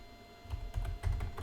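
Someone types a product name on a computer keyboard, a soft burst of quick, uneven key clicks and taps fairly close by, with no voice over them.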